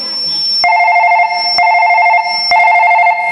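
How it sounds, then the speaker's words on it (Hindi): A telephone rings loudly and close by in a repeating electronic ringtone pattern, three bursts in steady succession. No one speaks over it. "मैं फोन लगा के ना राकेश ला घर में बुला लेता हूँ"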